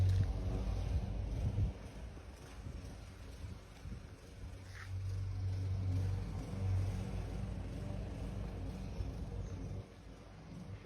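A lorry's diesel engine rumbles low and steady close by as it manoeuvres near a concrete pad and block paving at a residential solar-panel scaffolding job, the drone dipping and swelling over about eleven seconds with no talk.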